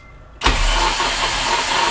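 A car engine is cranked over during a cylinder compression test on cylinder 4, a sudden loud, steady churning starting after a brief quiet and running unbroken to the end, close and with no voices.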